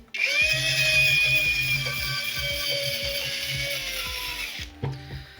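A power sander works the wooden planking of a San Felipe ship model during the first planking stage. It gives a close, steady high-pitched whine with a low rattling undertone that runs without a break for about four and a half seconds, then cuts off.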